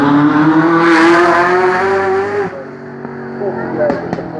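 A Ferrari F40 sports car passes at a motor festival with a loud, sustained engine drone that peaks and then fades as it moves away, with crowd noise and voices behind it.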